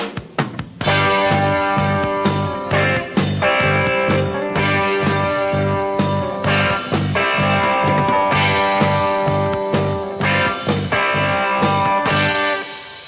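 Heavy metal band hammering out a simple four-to-the-bar rhythm, loud distorted guitars, bass and drums pounding steady even beats for about twelve seconds, no voices.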